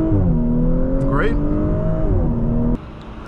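A 2022 Audi S5 3.0T Sportback engine revs up hard in a rising whine, then cuts off abruptly, with a voice talking over the first part.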